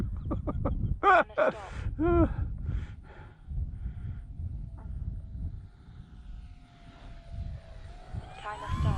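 E-flite T-28 radio-controlled model airplane flying after crash repair, its electric motor a thin steady drone at a distance, with a voice talking over the opening seconds.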